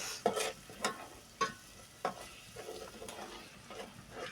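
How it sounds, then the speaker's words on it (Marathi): Homemade ground masala of coconut, chili and salt fries in oil for a chilapi fish curry, with soft sizzling under several scraping stirs of a spoon in the pan, faint and close. "तर आता हे थोडा वेळ असं तळून घ्यायचं आहे तेलामध्ये"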